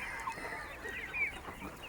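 Free-range village chickens of a parent-stock poultry farm cluck busily in the morning, several birds overlapping in a steady, close chorus with no talk.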